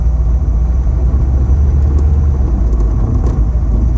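A 1934 Ford 3 window coupe's engine growls on the move, a steady low rumble with road noise filling the cabin throughout.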